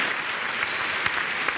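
A large audience of about 2000 claps together at the Olympia, a dense, steady wash of loud applause filling the hall with scattered sharper claps, no voices over it.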